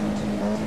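A Formula Junior race car engine drones steadily in the Automobilista 2 racing simulator, with the throttle held open. The burst is brief and loud, and no one speaks over it.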